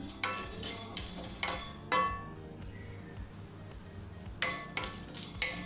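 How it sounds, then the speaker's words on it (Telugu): Curry leaves dropped into hot oil for a Tamil Nadu-style fish curry crackle and sizzle in bursts amid close stirring and pan clatter, with a brief quieter lull midway before the spluttering returns. "కొంచెం కరివేపాకు వేసుకుందామండి ఇవి కూడా లైట్గా వేయించుకుందాము"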